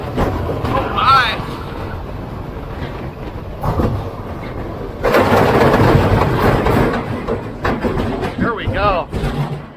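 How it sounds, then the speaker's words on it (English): An old roller coaster, more than 40 years of wear and rust on it, clatters and rumbles along its track. The noise is loud and continuous with rhythmic clacking, and people talk and exclaim over it. "You can hear that noise, that clattering."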